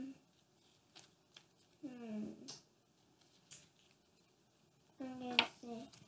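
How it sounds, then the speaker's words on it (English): Playing cards are shuffled during a Castle Panic board game, giving soft riffling clicks and flutters in two short bursts. Voices talk nearby. "I'm shuffling now"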